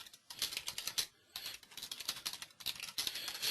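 Rapid typing on a computer keyboard, close and crisp, with bursts of quick key clicks separated by short pauses, alone without speech.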